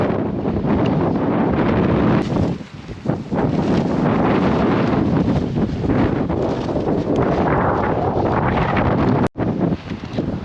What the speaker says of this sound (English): It's a bit windy, but it is due to quieten down soon